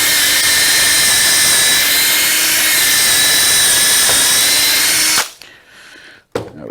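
A power drill bores through a wooden cornhole board leg held over a workbench, running loud and steady for about five seconds before cutting off, then a brief quiet rustle and a short final burst.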